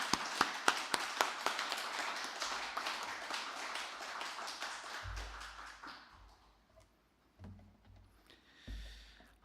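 Congregation applause at a Wednesday mission-report church service, a dense burst of claps through the first half that thins and fades, followed by low thumps and quiet room sound.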